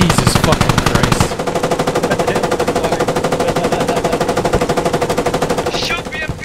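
Rapid, sustained machine gun fire in the military shooter game Squad, a loud, steady stream of close-range bursts running for several seconds with a brief louder burst at the start.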